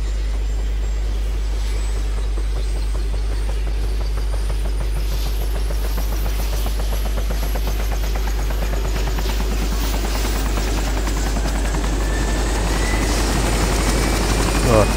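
A helicopter lifts off in the video game DayZ Epoch, a loud, steady rotor thump and engine drone that builds slightly toward the end, with a voice talking over it.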